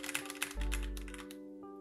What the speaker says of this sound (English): We can test if our chat works by typing something into our stream chat.